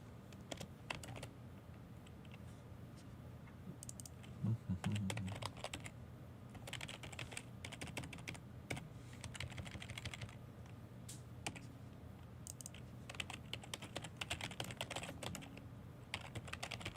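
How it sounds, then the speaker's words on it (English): Typing on a computer keyboard goes on steadily for the whole stretch, with bursts of quick clicking keystrokes and short pauses, faint and close, with no voices. "if anytime I'm not talking, it's because I'm typing and thinking"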